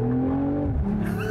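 A 2020 BMW Z4 M40i engine and exhaust sound close and loud as a steady, deep drone that shifts pitch as the revs change.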